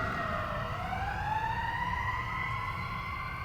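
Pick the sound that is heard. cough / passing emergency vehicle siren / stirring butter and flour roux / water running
passing emergency vehicle siren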